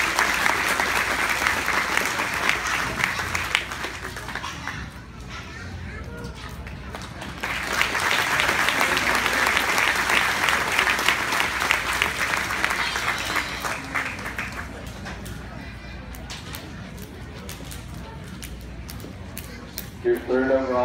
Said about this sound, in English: give these kid exhibitors one more round of applause